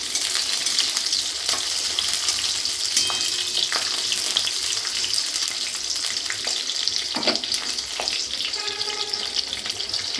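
Onions hiss and sizzle steadily in hot white cooking oil in a wok, with occasional scraping stirs and clinks over the continuous frying noise.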